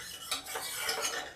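Cooked dal is stirred in a pot with a metal spoon, producing a few quick scraping strokes against the cookware, close and fairly quiet, with no voices.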